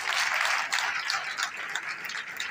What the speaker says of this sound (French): Ça peut s'applaudir quand même.